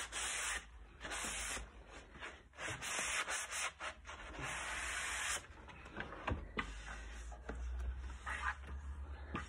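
Sandpaper rubbed back and forth along the edges of an old mirror, a continuous close scratchy rasp with uneven strokes and brief pauses, no talking.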